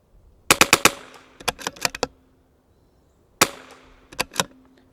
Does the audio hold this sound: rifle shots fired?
yes